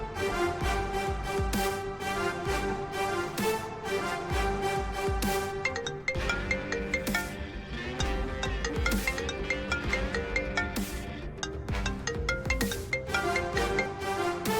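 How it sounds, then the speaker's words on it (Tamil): A phone rings while an outgoing call is placed, a continuous melodic ringtone repeating steadily for the whole stretch, clear and prominent with no talking. "சூர்யாக்கு ஒரு ஃபோன் பண்ணிட்டு நம்ம கிளம்புவோம"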